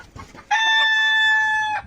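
Five-month-old Fayoumi laying hens, with one bird giving a loud, sustained, close call lasting over a second, preceded by softer clucks in the background.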